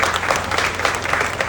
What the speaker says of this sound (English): I think we ought to give him another round of applause